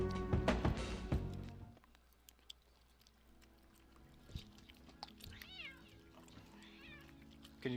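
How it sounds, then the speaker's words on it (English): A cat named Jag meows in rising, wavering calls a few times midway through, faint to moderate. It follows a loud burst of other noise at the start, with a low steady hum underneath. "I know who that cat is."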